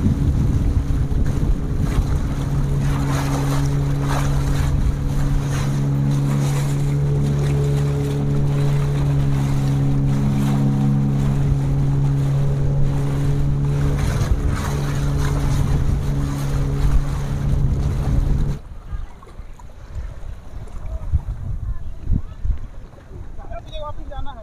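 Small boat motoring through shallow water, with a loud steady engine drone, water wash and wind buffeting the microphone for most of the stretch, then the engine cuts and only quieter splashing and ambient noise remain.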